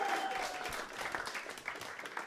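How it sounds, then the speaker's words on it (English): Audience at a comedy club in Times Square applauding, a steady wash of many hands clapping at moderate loudness, with faint crowd murmur underneath. "Can you just give her a nice round of applause"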